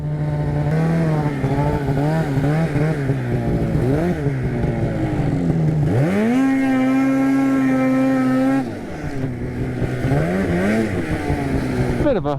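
A Polaris RMK snowmobile engine revving under a newly fitted finger throttle, loud and close, pitch rising and falling in repeated surges, then held high for a few seconds before dropping back, with no talk over it.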